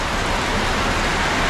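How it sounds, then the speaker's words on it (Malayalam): Heavy rain pours down steadily outdoors, a dense even hiss that is loud and close, with no voices over it. "ഇപ്പൊ ശക്തിയായി കേട്ടോ. നല്ല മഴ,"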